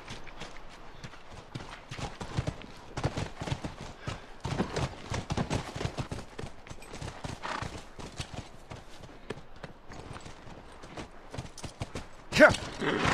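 Horse hooves clip-clop in an irregular walking rhythm in The Last of Us on PlayStation 3, with a brief sharp burst near the end; no speech is heard.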